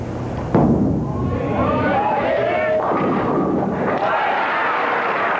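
Bowling ball striking pins at the 1987 True Value Open professional tournament in Peoria, Illinois: a single sharp crash, followed by a sustained rumble of crowd noise and voices.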